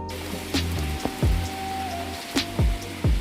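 Rain falls outside, with scattered drops striking a surface as soft irregular taps and thumps over a quiet, steady background.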